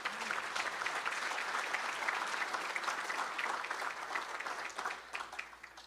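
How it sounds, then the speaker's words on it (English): An audience applauds at an awards ceremony, a continuous crowd of hands clapping steadily for about six seconds, fairly distant and even, without speech on top. "So we can give them a round of applause as well."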